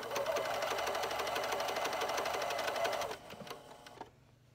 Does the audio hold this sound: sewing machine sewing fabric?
yes